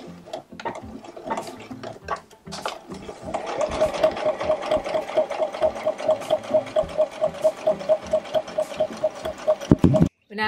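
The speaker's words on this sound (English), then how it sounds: "And start sewing." A sewing machine stitches the hem of a men's shirt being refashioned. After a few scattered clicks and handling noises, it settles into a fast, steady mechanical chatter that runs close and loud until it stops abruptly.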